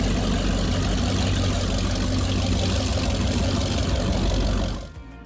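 A DCB M35 powerboat with twin Mercury Racing 700 engines, idling with a deep, loud, steady rumble at close range before the sound drops away abruptly at the end.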